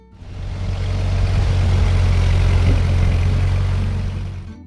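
A Ford 8N tractor engine runs steadily, a continuous mid-loud low rumble with a droning hum that rises in and fades slightly at the end, no voices.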